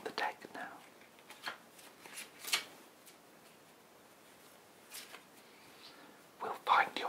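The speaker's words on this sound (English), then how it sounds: "I'm just shuffling the deck now." A deck of playing cards is shuffled close up in quiet, soft bursts of riffling and flicking, separated by near-silent gaps, with faint whispering in between.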